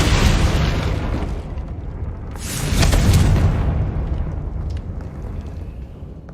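Confringo spell explosions in Hogwarts Legacy burst with a loud, deep boom, a second heavy blast following midway, then rumbling decay fading out.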